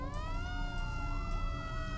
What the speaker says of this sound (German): Was ist das für ein Geräusch? Was ist das? Feuerwehrsirene?